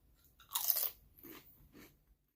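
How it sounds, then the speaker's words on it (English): Crunching on Sonic Sour Cream Doritos corn chips: one loud sharp bite followed by two softer chewing crunches, close and isolated with no talking. "And all the crunch that you expect from Doritos."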